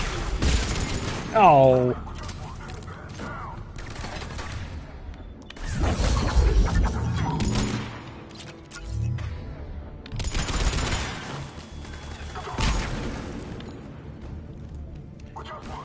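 Bursts of gunfire in the Mass Effect 3 video game, several rapid volleys spread across the moment with sharp crashes, heard under frequent talking from players and characters.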